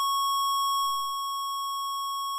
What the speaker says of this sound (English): Annoying beep on startup.